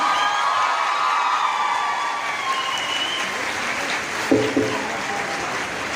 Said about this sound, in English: Dr. Neelam Sodhi, with a big round of applause on the stage, please.